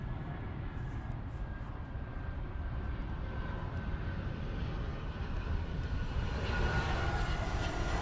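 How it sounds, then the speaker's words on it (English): A plane lands at Newark Airport, its engine a continuous low roar that swells slightly toward the end, heard from a nearby outdoor soccer match with no talking. "It is quite impressive, the frequency of the planes that are landing at Newark Airport"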